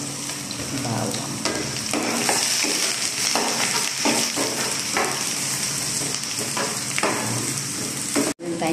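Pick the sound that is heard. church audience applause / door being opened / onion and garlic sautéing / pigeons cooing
onion and garlic sautéing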